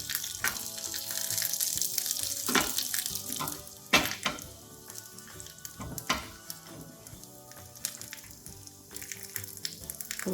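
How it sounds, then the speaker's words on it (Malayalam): Sliced shallots fry in a pan with popped mustard seeds, cut dried red chillies and curry leaves for an anchovy thoran, a close, crackling sizzle with scattered sharp pops and occasional stirring scrapes, no talk. "ഉള്ളിയൊക്കെ മൂത്ത് ഇനി സ്റ്റൗ ഓഫ് ചെയ്യാം."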